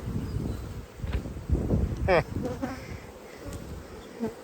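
Honey bees buzzing around stacked beehive boxes, a double-deep hive topped with three honey supers during a strong honey flow, with a steady hum punctuated by close passing buzzes over outdoor background noise.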